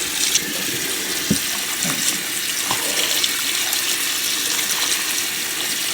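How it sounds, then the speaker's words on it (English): Running tap water rinses chitterlings and then a cooking pot, a steady, close, broadband gush that keeps up the whole time. Faint clinks and knocks of the pot and the meat handled under the stream break through it now and then, and no one speaks. "Just gonna give it a little rinse. I'm gonna clean that pot too."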